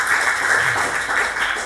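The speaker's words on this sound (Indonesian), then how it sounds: "Kasih tepuk tangan untuk Tuhan" A church congregation applauds during a sermon, a steady wash of many hands clapping, loud and sustained throughout with no talk over it.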